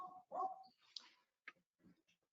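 A dog barks in a few short, uneven yaps and whimpery bursts, faint and somewhat distant, with no speech over them.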